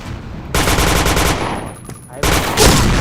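Rapid automatic gunfire in a tactical shooter game with an AWP sniper rifle, two loud bursts of fast shots separated by a brief lull, close and dense.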